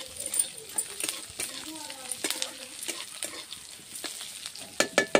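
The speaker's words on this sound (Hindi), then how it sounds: "पियाज को आमे भाजी नबा। पियाज लाल होगा पर्यंत आमे भलसे भाजी नबा।" Chopped onions fry and get stirred in a pan while being browned, a steady close sizzle with scraping stir strokes and a few sharp clinks near the end.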